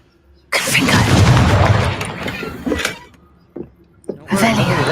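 A Confringo blasting spell goes off in the Hogwarts Legacy video game, a loud sustained booming burst lasting a couple of seconds, followed by a couple of shorter thuds and another blast near the end.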